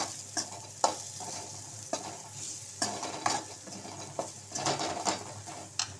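Mutton curry sautéing in a pan with spices, a steady sizzle and frying crackle broken by repeated stirring scrapes and knocks of a spoon against the pan, close and moderately loud.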